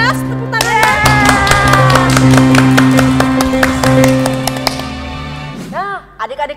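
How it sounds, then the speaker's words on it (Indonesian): Children at a Sunday church service clap their hands loudly in a dense, sustained burst of applause that fades out near the end, with a voice cutting in afterward. "Yang lebih keras tepuk tangan."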